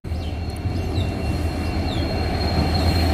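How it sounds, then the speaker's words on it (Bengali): Small passenger train no. 75714 on the Bamanhat to Siliguri Junction route pulling into Domohani station: a steady, close rolling rumble with thin metallic wheel squeals across the whole stretch, no voices. "বামনহাট থেকে শিলিগুড়ি জংশন পর্যন্ত যাওয়ার জন্য 75714 ট্রেনটি দমন স্টেশনে এসে পৌঁছে গেছে"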